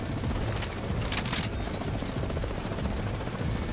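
An enemy helicopter in the shooter game The Division 2 thumps with a low, continuous rotor rumble, joined by a few sharp bursts of gunfire early on.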